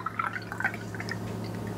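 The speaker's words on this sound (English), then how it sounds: "let's get our little shot glass and pour some in there." Dark cold brew coffee trickles into a small shot glass, a light, close splashing pour with soft drips over a steady background hum.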